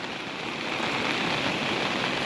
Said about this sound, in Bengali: কিছু দেখা যান না, খালি বৃষ্টি আর বৃষ্টি।